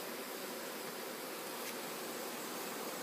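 Dense, steady buzzing of many honeybees during a package installation into a hive, a continuous close hum without pause.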